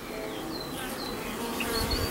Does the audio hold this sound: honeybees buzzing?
yes